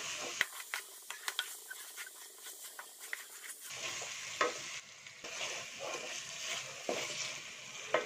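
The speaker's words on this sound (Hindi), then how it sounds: "अब इसमें 2 टीस्पून लाल मिर्च पाउडर डालेंगे। इसको भी थोड़ा मिक्स कर लेंगे।" A spoon scrapes and stirs red rice with red chili powder in a hot pan, a soft sizzle running underneath irregular clinks and scrapes, fairly quiet and close with no voices.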